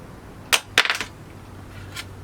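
Metal Crypto.com Visa card tapped against a hard surface, a few sharp bright clicks in a quick cluster followed by one fainter tap, with no talk.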